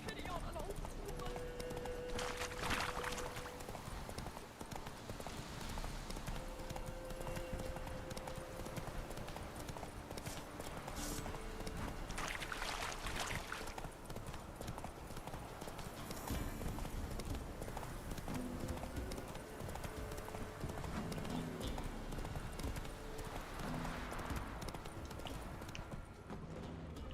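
Horse hooves clip-clop in a steady galloping rhythm through The Witcher 3: Wild Hunt on PS4, with game music and ambience underneath and a few brief voices over the top.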